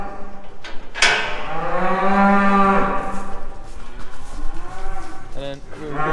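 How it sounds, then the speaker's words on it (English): Cull cows and calves shut in a pen for the night let out loud, drawn-out moos close by, one call overlapping the next, with a few shorter lows toward the end. "we're just going to shut these cull cows and calves in here for the night"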